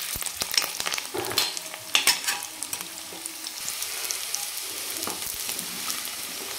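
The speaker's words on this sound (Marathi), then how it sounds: "तर फ्राय करून घेऊ आपण।" Potatoes sizzle steadily in hot oil while being stirred for Kashmiri dum aloo, with soft scraping and clinks over a continuous close frying hiss.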